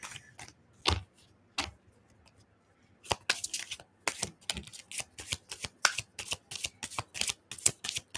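A deck of tarot cards is shuffled in quick crisp riffles. Two isolated snaps come first, then after a short pause a steady run of sharp, close flicks and rustles follows, with no talking.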